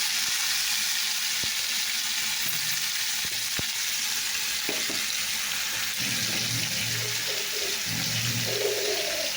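Sweets fry in a pan with a constant hissing sizzle, broken by a couple of sharp clicks and soft bubbling stirs.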